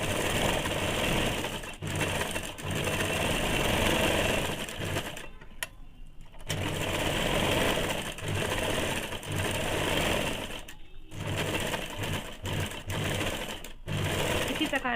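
A sewing machine stitches two lined scarf fabric pieces together in long rattling runs, broken by brief pauses, with someone talking over it.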